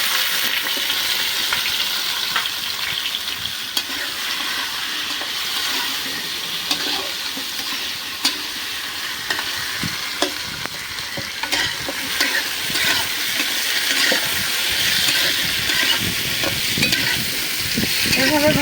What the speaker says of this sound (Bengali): এখন এই যে আলুগুলি ভাজা দিব।